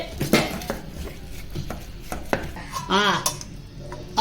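Jonna sangati (sorghum) mixed in a pot after the stove is turned off, with scraping ladle strokes and clinks of metal against the pot in irregular bursts, close by, and a voice briefly heard.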